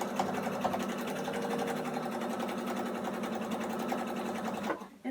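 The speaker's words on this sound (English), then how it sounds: "Go to your sewing machine" A sewing machine chain piecing orange quilt fabric strips for a New York Beauty paper-pieced quilt runs steadily and close for about five seconds, a fast even mechanical whir that stops abruptly at the end.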